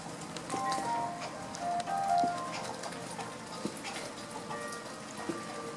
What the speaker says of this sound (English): there's rain dripping down on the screen. It is raining out here.